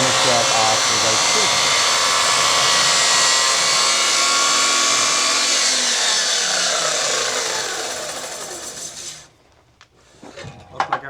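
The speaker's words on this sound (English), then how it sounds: "So we're cutting a heavy side of the diminished edge housing right now." A power tool cuts the housing of a timber frame joint, a loud steady whining and rasping cut that winds down and stops near the end, followed by a few light knocks.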